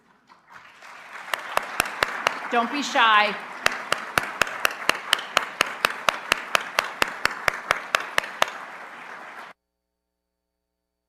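Audience applause at a university employee recognition ceremony, steady clapping with sharp individual claps standing out, lasting several seconds before stopping abruptly; a voice speaks briefly over it.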